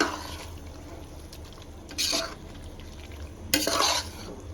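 A spoon stirs thick biryani masala paste with curd and chicken in a pan, two brief scraping swirls standing out over a low background hum, close and fairly quiet.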